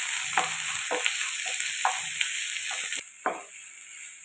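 Finely chopped onion sizzles steadily in hot oil, with a spoon scraping and stirring the pan in irregular strokes, close and continuous.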